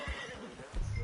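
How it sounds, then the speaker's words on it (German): A horse in Red Dead Redemption 2 gives a short whinny after being punched by the player, with a hoof clop or two, brief and fairly quiet. "Oh, sorry, ich wollte dich nicht schlagen, Pferd. Ich habe das Pferd geschlagen."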